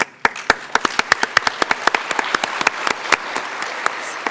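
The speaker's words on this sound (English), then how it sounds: "we want to give you a round of applause" An audience at a nursing school spring pinning ceremony claps in a hall: a steady run of sharp, distinct handclaps at a brisk rhythm, fairly close and moderately loud, with no talking over it.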